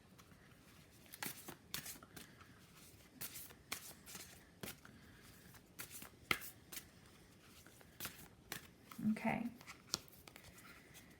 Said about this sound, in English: So I'm just going to pull a couple of Moonology Manifestation Oracle cards to extend today's message.